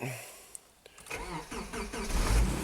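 A Subaru engine with a limp-home fault (code P2138) cranks and catches, then settles into a steady mid-pitched run, growing slightly louder toward the end.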